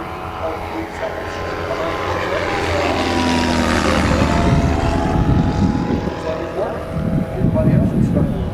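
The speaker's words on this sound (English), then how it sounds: "what's more impressive is the airplane she's flying" A small propeller airplane flies during a timed competition, its engine droning loud and close, swelling and then settling while commentators talk over it.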